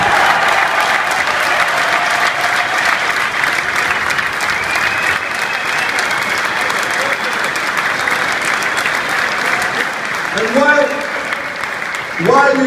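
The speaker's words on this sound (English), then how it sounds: "While you give an applause to me, give applause to the players as well" Sustained crowd applause at a football coach's farewell speech for Randers FC, dense clapping filling the room, with a voice speaking briefly near the end.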